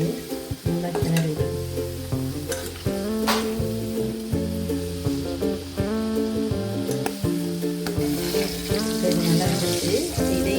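Potato French fries frying in hot oil, a steady crackling sizzle under loud music with sustained tones, with occasional stirring and a sharp clatter, fairly close.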